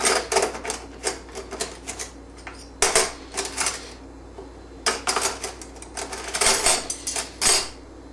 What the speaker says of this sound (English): I'm trying to just find one of my largest teaspoons